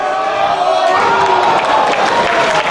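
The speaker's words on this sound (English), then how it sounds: "listen to this crowd" A wrestling crowd at a Dragon Gate USA tag-team match roars steadily and loudly, a continuous wash of cheering and shouting with no break.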